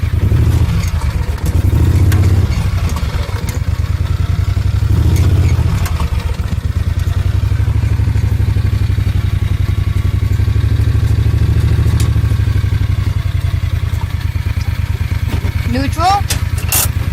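A John Deere Gator 625i utility vehicle fitted with a wildland firefighting setup idles and rumbles steadily as it backs up, a low continuous engine drone close by, with a brief high chirp near the end.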